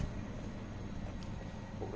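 A train rumbles steadily at Łódź Kaliska railway station, a continuous low, dense roar heard from fairly close with no talking.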